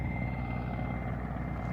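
A helicopter flies overhead above a small village in the Troitsko-Pechorsk area, its rotor drone a steady, loud, low rumble that fills the whole moment with no voices.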